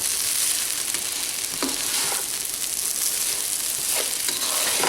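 Chicken pieces browning in a pan for Filipino chicken adobo, a steady dense sizzle throughout with a few brief clicks and scrapes, close and continuous with no talking.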